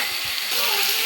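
Tomatoes sautéing in hot oil in a pan for a tomato curry, a steady bright sizzle and hiss that holds evenly throughout, close and fairly loud.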